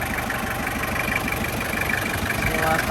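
A year-2000 Toyota LGX diesel car engine with manual transmission idles steadily up close, a continuous low rumble with even mechanical texture and no talking over it.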